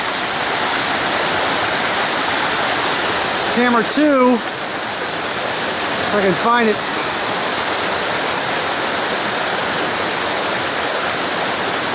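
Creek water flows in a steady, broadband rush that fills the whole stretch, while someone speaks briefly over it partway through.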